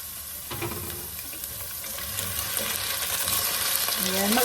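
Chicken browning in a frying pan for caldereta, a dense close sizzle that swells steadily louder, with faint stirring scrapes mixed in.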